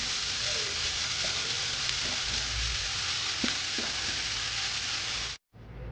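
Fenugreek greens fry with a five-spice tempering, giving a continuous close crackling sizzle that holds steady for over five seconds before cutting off abruptly near the end.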